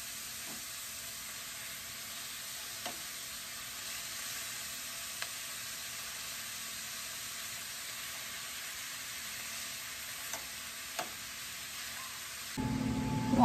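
Beef frying in a pan for a Spanish beef stew, a steady close hiss of sizzling fat with faint occasional pops and ticks, continuous and even throughout, with no talking.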